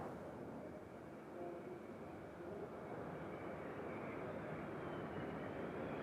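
A Vought F-8 Crusader jet with a Pratt & Whitney J57 afterburning turbojet at an air show gives a steady, broad roaring rush that holds level throughout, with no voices.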